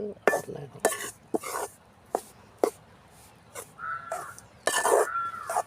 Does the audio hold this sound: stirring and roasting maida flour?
yes